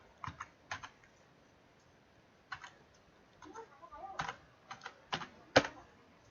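Keys tapped on a computer keyboard as a mobile number is entered, coming in short clustered bursts of close, crisp clicks separated by pauses, with no talking.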